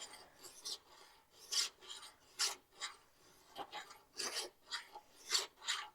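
A hand file rasps along a scissor blade in irregular bursts of short strokes, fairly close and fairly loud, with brief pauses between them and no talking.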